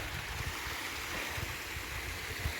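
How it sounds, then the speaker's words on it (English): A pretty waterfall on the Pennine Way between Crowden and Marsden, heard as a steady, full rush of falling water with a low rumble, continuous and fairly close, with no voices. "Just came across this really pretty waterfall"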